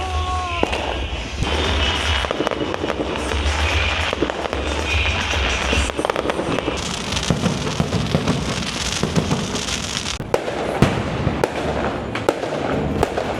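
Fourth of July fireworks crackle and boom continuously at a distance, a dense rolling barrage of bangs and popping with sharper loud bursts near the end.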